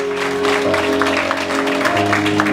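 An audience at a Wyandanch Family Day Mother's Day prayer breakfast brunch claps hands in a steady burst over sustained music, with voices faintly mixed in.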